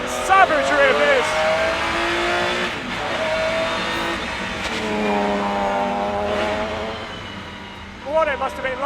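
A McLaren F1 road car engine pulling hard through its short gears, rising and falling revs in repeated loud sweeps, heard from inside with someone talking over it.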